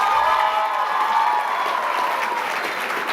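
Audience at a Black excellence awards ceremony applauds, a dense wash of clapping from a crowd that holds steady and slowly fades slightly, no speech.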